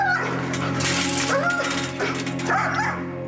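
A male dog in an uncontrollable frenzy at the sight of another dog yaps, yips and whimpers nonstop, close and loud, over a steady droning hum with voices mixed in.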